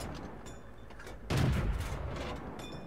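A tank cannon fires in a tank video game, one muffled boom rising midway over a steady rumble of engine and ambient battle noise, moderately faint and without voices.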